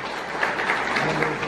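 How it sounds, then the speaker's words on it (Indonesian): Applause from a crowd at a regional party leadership meeting, a steady close burst of clapping filling the whole moment at fairly high volume. "tepuk tangan buat kita semua"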